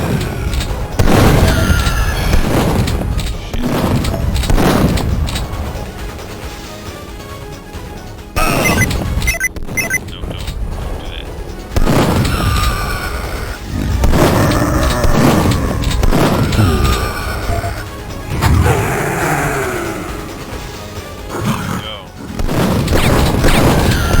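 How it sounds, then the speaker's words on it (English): Loud, booming pipe bomb explosions in the shooter Duke Nukem 3D go off repeatedly over about twenty seconds, with crashes and gunfire between blasts and a voice talking over the action. "Yeah, pipe bomb."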